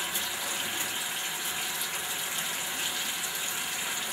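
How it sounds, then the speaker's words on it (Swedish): Water runs and splashes steadily into a bathroom washbasin during handwashing, a continuous broadband rush close to the listener with no talking over it. "så skvätter jag ner vattnet i handfatet"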